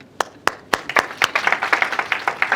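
Students in an engineering college lecture hall clap, starting with a few sharp separate claps that quickly build into brisk, steady applause from a small group nearby.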